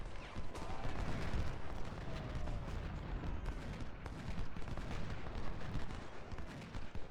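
Dense, continuous gunfire rolls through a Civil War video game battle, with volleys, scattered musket shots and booming artillery layered into a steady roar with no pauses.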